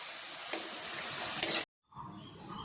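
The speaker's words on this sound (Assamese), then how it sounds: "এতিয়া গাজৰখিনি ধুনীয়াকৈ ভাজি ল'লোঁ" Carrots frying in a pan hiss with a steady, close sizzle that cuts out abruptly for a moment, then returns more softly, with no voices.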